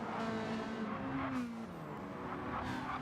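A Ferrari race car engine in a racing video game whines steadily at high revs, its pitch dipping and climbing as it shifts through the gears, heard alone and fairly close.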